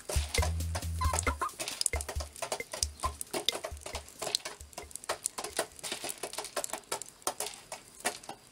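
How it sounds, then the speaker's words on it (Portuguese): Chickens cluck steadily in a farm coop while they eat and drink, close and fairly loud. Their calls come over a busy patter of pecking at a feeder and small clatters. "está tudo a funcionar bem, com as galinhas a comerem e a beberem calmamente"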